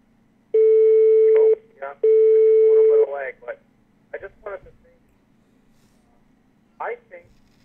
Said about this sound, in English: The other line's ringing.